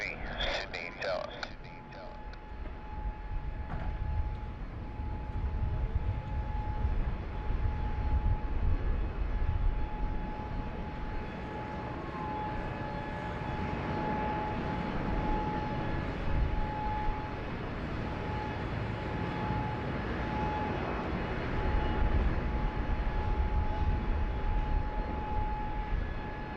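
A Jetstar heavy jet airliner at Sydney Airport during a thunderstorm rumbles steadily with a broad low roar that swells and holds throughout, a steady tone running over it and a voice talking at times.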